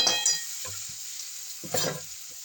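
Fenugreek leaves sizzle and crackle in a hot pan while being stirred, a close frying hiss with a few scraping stirs and brief louder spits, no voices.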